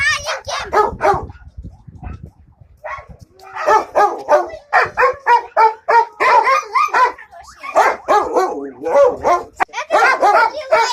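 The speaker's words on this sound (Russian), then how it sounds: "они слишком громко лают" Yakutian Laika dogs in Chochur Muran barking loudly in rapid overlapping bursts, close by, with yips mixed in and a person speaking briefly among them.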